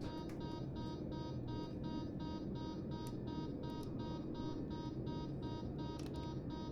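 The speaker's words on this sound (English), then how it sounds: "not sure what it's beeping about." Cockpit warning beeper in an L-1011 flight simulator game, a steady run of evenly spaced electronic beeps repeating throughout over a constant low cockpit hum, with no voices.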